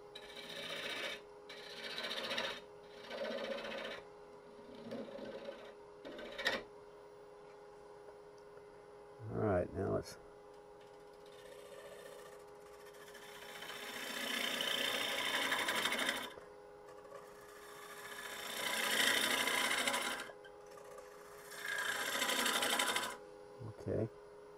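Wood turning on a lathe, a gouge cutting into side grain of a thin piece, giving a steady rasping, scraping hiss that swells and fades in repeated passes, with a brief low knock midway and a spoken voice between cuts.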